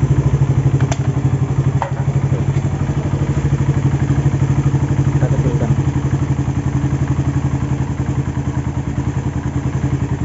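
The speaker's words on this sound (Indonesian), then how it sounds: "jadi seperti ini bunyi mesinnya. Sangat halus ya." A Suzuki Satria FU engine with an oversize Tiger piston idles close by, running steady and even with a smooth, rapid putter that never falters for the whole stretch.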